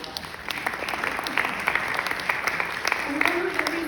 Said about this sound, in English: You can give her a round of applause if you'd like.